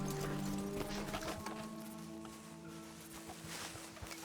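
Horses walk in Red Dead Redemption 2, their hooves clip-clopping in a steady rhythm close by under game music and ambience.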